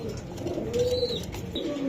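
A racer pigeon gives soft, low coos close by in a quiet space, two or three short calls with no one talking.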